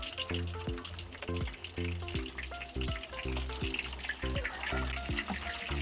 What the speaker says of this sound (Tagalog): mag-ingat kayo sa pagpipirito